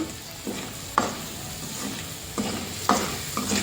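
Gongura chutney ingredients frying in a pan, with a steady sizzle broken by several sharp stirring scrapes and clatters at an uneven rhythm, close by and alone.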